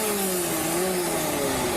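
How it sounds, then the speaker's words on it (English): A semi truck engine revs with a steady low rumbling drone that slowly shifts in pitch, loud and continuous, with no voices over it. "They're revving it up."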